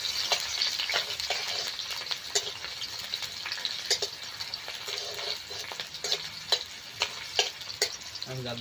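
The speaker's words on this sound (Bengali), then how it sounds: "তেল গরম হয়ে গেছে, এবার আমরা পেঁয়াজ দেবো।" Onions fry in hot mustard oil in a pan, giving a steady bright sizzle with scattered crackles and a few clicks of stirring near the end. No one speaks.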